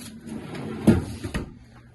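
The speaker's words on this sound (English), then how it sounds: "And then you also have these 3 large drawers." Large drawer with dovetail joinery aboard an MJM 40Z yacht sliding open or shut, a short wooden thump followed by a second softer knock, close and moderately loud.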